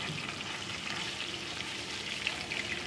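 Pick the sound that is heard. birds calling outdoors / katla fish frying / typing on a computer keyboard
katla fish frying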